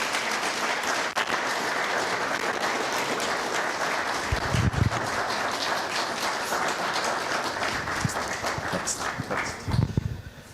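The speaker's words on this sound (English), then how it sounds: "A round of applause." Audience applause fills a hall after a Best Lead Actress award at the FilmAid Film Festival, steady dense clapping from a large crowd with a few louder bursts near the end.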